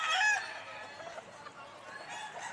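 A young, tall seven-month-old bulik dome rooster crowing, a short bright crow at the start that trails off into quieter clucking and faint background noise.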